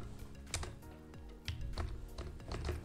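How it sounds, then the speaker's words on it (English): Typing on a computer keyboard at a desk, a run of quick, uneven key taps and clacks at close range with no talking. "So let's go to PowerShell and type"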